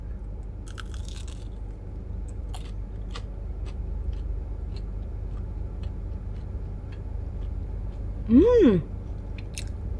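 Crispy McDonald's french fries are eaten close to the mic, with sparse faint crunchy bites and clicks over a low steady background hum, and a brief hummed voice near the end.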